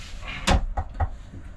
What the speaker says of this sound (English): Little door right here.